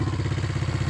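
Steady, loud, close exhaust rumble from a 1968 Honda CL350 Scrambler, a four-stroke twin-cylinder, twin-carb bike with dual high-pipes, pulsing evenly at idle with a throbbing low beat and no talking.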